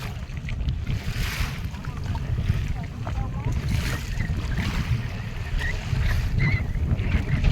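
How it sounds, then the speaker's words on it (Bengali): Strong storm wind roars across the microphone over choppy water of the Gangal river near Marichjhapi forest, slapping and churning around a rocking boat, a steady rough rush throughout with faint voices underneath. "হঠাৎ করে একটা হাওয়া উঠলো আর তারপরে ঢেউ শুরু হলো"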